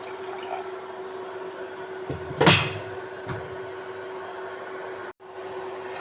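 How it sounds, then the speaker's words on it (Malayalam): Water splashes into a pan of Malabar tuna curry with pepper and chili, a short burst of pouring over a steady background hum, followed by a lighter splash. "അതിനുശേഷം നമുക്ക് 1 കപ്പ് വെള്ളം ചേർക്കാം."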